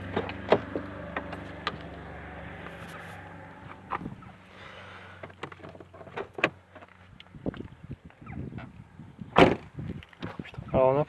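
A Citroen Xsara power window with a fault lowers itself, its electric motor giving a steady whine for several seconds at close range, followed by scattered clicks, knocks and handling noises inside the car.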